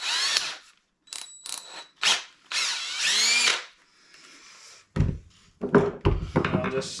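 A power drill spinning a chucked wooden dowel whirs in several short bursts with rising and falling pitch, followed by a few hollow wooden thunks and taps near the end.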